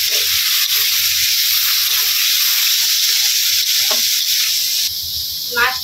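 Loud, steady hiss of food frying in a pan, close up, with faint low voices and a few soft stirring scrapes underneath; the sizzle drops slightly near the end.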